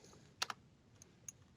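A few quick, faint keystrokes on a computer keyboard, arriving in short separate bursts with quiet pauses between them and no talking.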